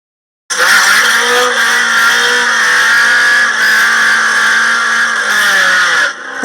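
A Nissan KA24DE four-cylinder engine revs hard and holds a loud, strained, buzzing high rpm for about six seconds before dropping off abruptly, heard up close with no talking.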